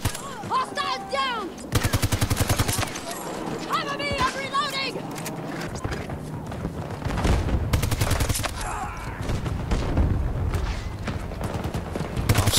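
Gunfire in Battlefield 2042, rapid automatic bursts and single shots crackling in several loud volleys, mixed with game effects and a player talking over the action.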